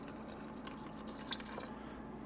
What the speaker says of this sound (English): We're gonna go ahead and kind of slowly pour some of that broth in